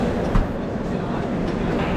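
Steady rumbling roar of the Sampark Kranti Express running, heard from inside the train, loud and continuous with a brief thump near the start.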